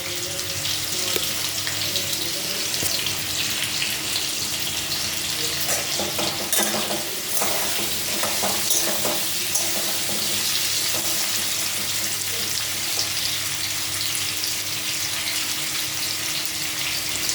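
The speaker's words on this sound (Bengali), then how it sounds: "একটু ভাজা ভাজা হবে।" Sweet pumpkin curry fries in a pan with a continuous hissing sizzle, joined by scraping and clattering as it is stirred, with no talking.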